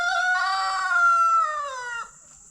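A backyard rooster in a coop with chickens and guinea fowl gives one loud, close, drawn-out crow lasting about two seconds, its strained harmonic tone falling away at the end over a quiet background.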